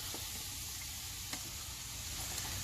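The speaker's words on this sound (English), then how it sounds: "Let's get the onions in there." Onions going into a hot pan sizzle in a steady, soft hiss that stays faint and even throughout, with a couple of light clicks and no voices.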